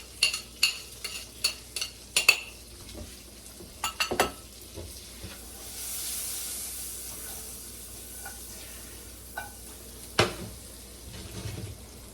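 Minced garlic sizzles in a pan for chicken piccata, opening with a run of sharp taps and scrapes from stirring, then a soft, steady frying hiss with occasional clinks, close and unaccompanied by talk.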